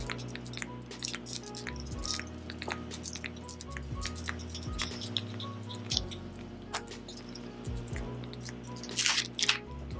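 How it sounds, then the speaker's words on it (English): Two liquid foundations are mixed on a palette, giving close, wet squishing and soft clicking dabs in an irregular rhythm, with no voices. "I'm just mixing my two foundations"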